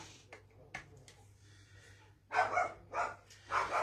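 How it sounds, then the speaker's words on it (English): A dog barks several times in short bursts, moderately loud and fairly close, rising in the second half after a quieter stretch, against a low steady hum of a home crafting room. "I'm trying to work out how to stop the dog barking."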